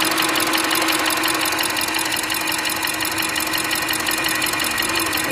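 An Audi SQ7 engine runs steadily with a persistent mechanical knocking, heard up close as a dense, continuous clatter over a constant idle hum with no pauses.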